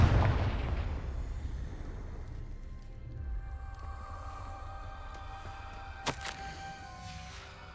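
A Confringo spell in the video game Hogwarts Legacy detonates with a deep booming blast at the start. It rumbles away into a low wash, followed by a sharp crackling burst a few seconds later.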